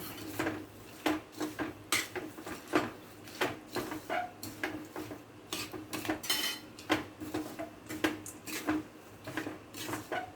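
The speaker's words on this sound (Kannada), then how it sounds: "ಹಾಕಿ ಈಗ ಇದನ್ನು ನಾನು ಚೆನ್ನಾಗಿ ತಿರ್ಸ್ಕೊತೀನಿ" A spoon stirs cardamom powder and dry fruits into thick jaggery syrup in a metal pan, with repeated scraping and clinking strokes in an uneven rhythm, close and moderately loud, with no voices.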